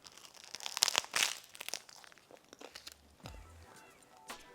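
An onigiri rice ball wrapped in nori seaweed being bitten and crunched, heard as a few sharp, close crackles and crinkles of the dry seaweed, followed by quieter chewing and rustling.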